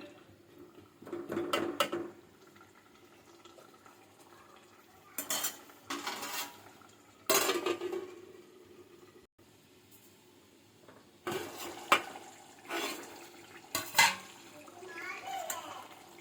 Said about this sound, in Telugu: మొత్తం ఈ చికెన్ అంతా వాటర్ అంతా రిలీజ్ అయ్యి డ్రై అయ్యేంత వరకు ఇలా కలుపుతూ ఉండాలండి మధ్య మధ్యలో